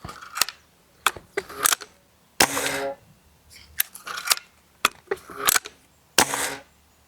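Air Arms TX200 air rifle fired at a paper target, heard as several sharp, close clicks and snaps spread irregularly across the clip, some followed by short rattling mechanical handling sounds, with no talking.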